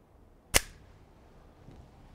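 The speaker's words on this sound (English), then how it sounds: "This is a string of rapid fire. 5 shots in 10 seconds." A single sharp pistol shot cracks out at an outdoor bullseye target range, loud and close with a short decaying tail, followed by near quiet.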